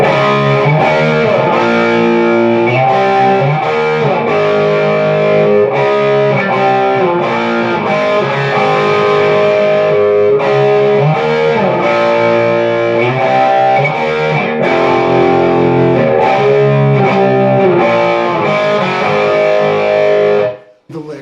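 Distorted electric guitar playing the second chorus of a song, loud and continuous chord work with rhythmic changes throughout, ending with a sudden cut.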